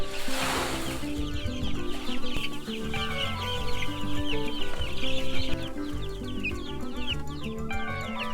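A dense flock of chickens in a grower house clucks and chatters at feeding time, a loud, continuous overlapping chorus heard close by with no speech.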